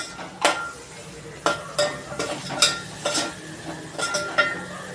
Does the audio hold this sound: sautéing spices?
yes